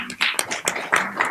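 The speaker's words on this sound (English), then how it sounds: "round of applause" Brief, scattered hand clapping from members during a National Council parliament session. It is a short, moderately faint round of several claps.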